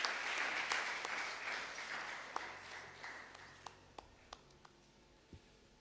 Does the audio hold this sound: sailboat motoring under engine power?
no